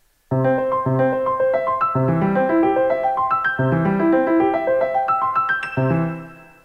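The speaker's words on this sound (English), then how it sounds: "now the arpeggiator, you can actually do a lot of different things" Bright GarageBand keyboard synthesizer arpeggio on iPhone 5, climbing and falling quickly across four octaves in a steady rhythmic pattern, loud and clear with no voices.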